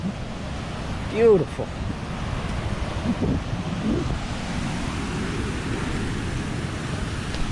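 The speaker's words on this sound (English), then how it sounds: "So this is what a coastal Hawaiian trail looks like, with unique trees, vegetation, and the ocean." Ocean surf along a coastal Hawaiian trail, a continuous broad wash of waves mixed with wind buffeting the microphone, while a person briefly speaks over it.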